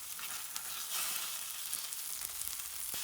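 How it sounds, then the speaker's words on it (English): Tomatillos blister and char in a hot pan with a little olive oil, giving a steady, close hiss of sizzling with scattered small pops and crackles. "a hot pan they went with a little olive oil, blistering until they started to char"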